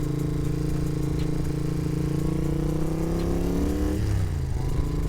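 A 1981 Moto Guzzi Le Mans Mark 2 motorcycle engine runs steady and loud, its harmonic drone holding pitch before dropping and sweeping back up around the four-second mark as revs fall and rise, with no talking.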